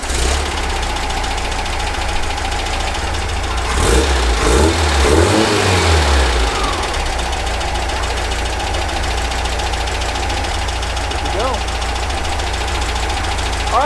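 A VW Baja Bug engine cranks, catches and revs up before settling into a rough, knocking idle, loud and close, after distributor and carburetor tuning, with people talking over it.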